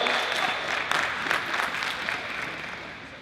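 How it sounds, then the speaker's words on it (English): An audience claps for a guest speaker at an evening session, a dense burst of many hands that is loud at first and gradually tapers off, with no voices on top. "Clap it up. Clap it up."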